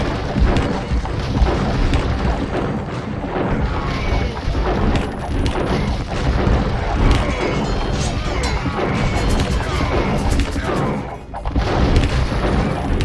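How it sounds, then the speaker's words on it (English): Bombard cannons firing in the Age of Empires video game: a dense, continuous barrage of loud booms, crashes and impact thuds, overlapping with little pause. "It's all about these bombard cannons right now."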